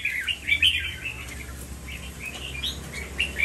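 A caged songbird chirps in bright, quick bursts of short tweets and trills, close and clear over a quiet background, with brief pauses between phrases.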